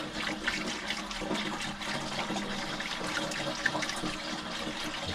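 Vinegar pours steadily into an old motorcycle fuel tank, a continuous soft gurgling, splashing rush that is quiet and even throughout, with no talk.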